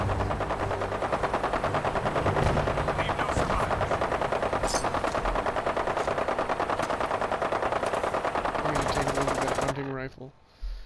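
Sustained rapid gunfire during a crossfire in the video game Fallout 4, a dense unbroken rattle of automatic shots with sharper bursts layered on top, loud and close before cutting off near the end, with talk mixed in.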